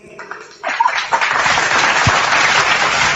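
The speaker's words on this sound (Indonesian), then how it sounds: "Tepuk tangan dulu buat abang kita ini." Audience clapping swells in after a brief murmur of voices during a church gathering, quickly becoming steady, dense applause that carries on to the end.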